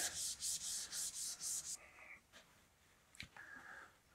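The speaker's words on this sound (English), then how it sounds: "Let's get some of this green Scotch pad and see if we can get this off." A green Scotch pad scrubbing an antenna part, close and quiet, about six rhythmic back-and-forth rubbing strokes, then a pause with a few softer scrapes and a small knock.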